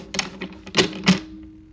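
Quick papery flicks and taps of tarot cards being shuffled up close, a short burst of crisp riffling clicks.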